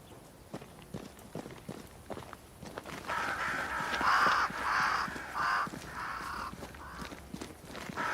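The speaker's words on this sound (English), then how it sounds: "Crows. They flock to that great tree up there." Crows caw in the Ghosthunters video game, a cluster of loud harsh calls in the middle, preceded by soft footsteps and set against a quiet outdoor ambience.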